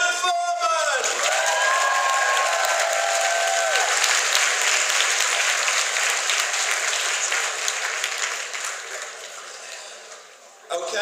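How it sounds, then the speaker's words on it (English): An audience at a convention gives writer Simon Furman a big round of applause, dense sustained clapping with some cheering that fades out near the end, with a voice heard briefly at the start. "can we please give a huge round of applause for our writer?"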